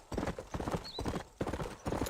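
Horse hooves clip-clopping in Red Dead Redemption, a steady, close, rhythmic trot of repeated hoof strikes in quick groups, with a brief whinny-like tone in the middle.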